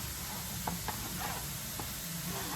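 Onions sauté in a pan with a steady low sizzle, broken by a few faint taps and scrapes of a utensil against the pan, with no talking.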